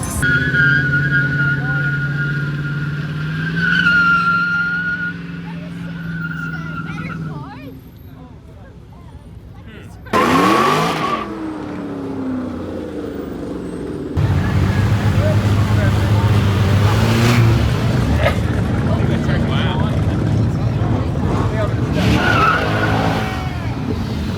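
At the Woodward Dream Cruise a 300 launches hard, its tires squealing and engine roaring loudly near the middle, amid crowd noise and people talking before and after.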